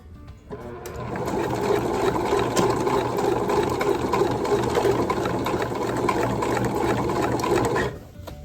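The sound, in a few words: sewing machine stitching a midi skirt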